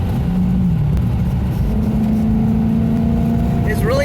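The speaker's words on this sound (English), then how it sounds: "even the standard Maserati Spyders sound really, really nice" Maserati Spyder engine running with a steady mid-pitched drone that rises slightly as it revs, heard on the road under continuous road and wind noise, with a voice talking over it.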